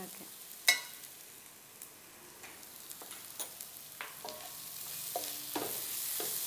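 Masala with turmeric sautéing in a pan, a quiet, low sizzle under intermittent clinks and scrapes of a spoon stirring, with a sharper knock near the start and a faint high tone later, no one talking.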